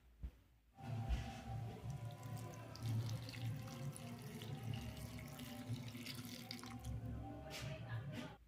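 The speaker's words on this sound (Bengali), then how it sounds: "ফুলকপি কাটাগুলোকে আমি এবারে জলেতে কিছুক্ষণ ধুয়ে নেব। প্রথমে আমি জল দিয়ে দেবো" Water runs steadily from a tap into a bowl for washing cut cauliflower pieces, a continuous close splashing rush that starts after a brief moment of quiet.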